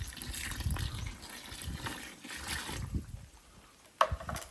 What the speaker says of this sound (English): So now let's go ahead and add some water.